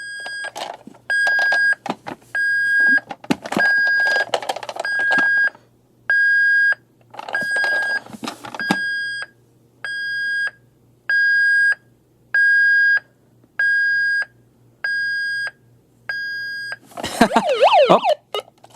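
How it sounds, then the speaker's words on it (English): A 1994 Hess toy rescue truck's backup beeper sounds a steady series of high electronic beeps, evenly spaced, with some handling clatter early and a burst of noise at the end. "Oh, you can see we have a backup sound."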